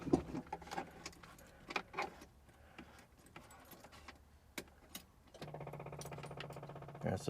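An electric fuel pump on a vintage Fiat Spider ticks rapidly, a faint, quick clicking that settles into a steady buzzing tick near the end, with scattered clicks and rattles before it, quiet and close, no voices.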